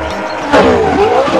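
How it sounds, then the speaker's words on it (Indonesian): A toy racing motorbike gives a short, loud revving whine that rises and bends in pitch, buzzing close by for about a second. "Wah, kalau yang ini motor balap."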